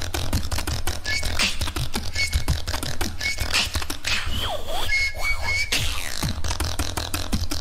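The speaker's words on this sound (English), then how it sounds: "Wait, both of them can do the whistle?" A beatboxer's whistle during a beatbox battle, thin sustained tones woven through fast, dense percussive mouth beats and clicks.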